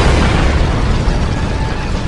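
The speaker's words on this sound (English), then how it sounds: "Detonating charges!" Explosive charges detonating in a chamber, heard as a loud, sustained roaring blast with heavy low rumble that holds steady for the full two seconds.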